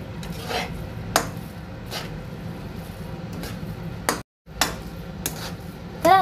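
A spoon stirs melted cheese through Maggi noodles with corn in a metal pan, giving scattered scraping clinks and soft rubbing at irregular intervals, close and fairly quiet, with one brief silent gap.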